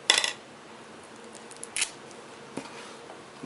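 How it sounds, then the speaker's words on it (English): Scissors cutting open the packaging of a World of Warcraft: Heroes of Azeroth trading card starter deck, heard as a few crisp, quiet snips spaced apart in an otherwise hushed room. "We're going to cheat and use the scissors."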